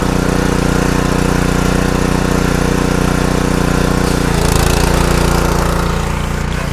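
Honda GX200 petrol engine powering a 2700 psi, 11 LPM pressure cleaner, droning loud and close with a steady rough hum that shifts pitch slightly midway.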